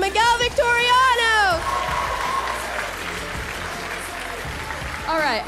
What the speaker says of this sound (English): One more round of applause for Miguel Victoriano